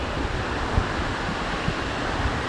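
Calm Atlantic Ocean surf off a coral rock island, a steady broadband wash of gentle waves with faint low thumps, mixed with some wind buffeting on the microphone.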